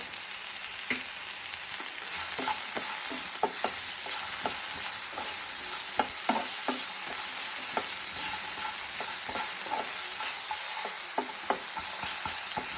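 Vegetables fry in a pan for a Korean-style vegetable ramen bowl, seasoned with salt and chili powder. A steady close sizzle runs throughout, with irregular clicks and taps of stirring scattered across it and no talking.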